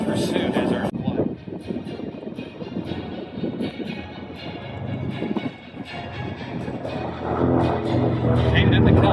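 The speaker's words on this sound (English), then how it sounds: "the PBJ, the Spitfire, and the Helicat are in hot pursuit" WWII propeller warplanes including a PBJ bomber, a Spitfire and a Hellcat flying past at an airshow, a steady broad engine roar that swells louder toward the end, with a commentator speaking over it.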